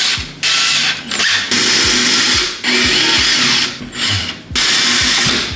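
A power drill bores holes into a wall for 6 mm wall plugs in several loud, close bursts of high whining grind separated by short pauses, with no talking.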